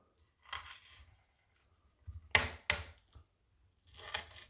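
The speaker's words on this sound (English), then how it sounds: "So we got our spinach chopped, we got our onions chopped." A knife chops spinach and onions on a cutting board in a home kitchen, a few scattered crisp cuts and rustles in short bursts separated by pauses.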